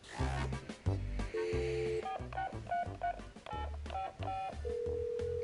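An old telephone rings with a string of short pulsed tones, some steady beeps and ring bursts, fairly faint and heard alone without talk.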